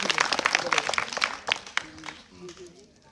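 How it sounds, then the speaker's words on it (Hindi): Schoolchildren in a government school classroom during a quiz competition break into a burst of quick, dense clapping that fades after a couple of seconds, leaving quieter room noise and faint voices. "ताली बजाइए, ताली बजाइए"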